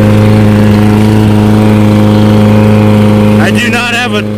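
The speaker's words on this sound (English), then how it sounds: "I'm at a customer's house mowing the yard." A lawn mower cuts grass in a customer's yard, its steady engine drone loud and constant throughout, with a person briefly speaking near the end.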